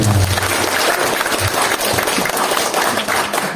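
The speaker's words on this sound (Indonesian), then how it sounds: "Tepuk tangan untuk kita semuanya." A crowd at a health seminar applauding loudly, dense and continuous clapping that fills the whole moment without letting up.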